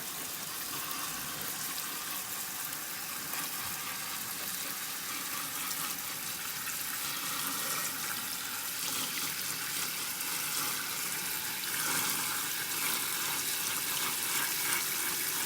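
Cabbage being rinsed under a running kitchen tap, a steady close hiss and splash of flowing water that carries on alone throughout.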